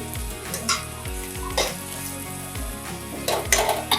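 Potato pieces frying in a pan for sabudana khichdi sizzle steadily while a utensil stirs and scrapes against the metal in quick, clattering strokes, close and fairly loud with no talking.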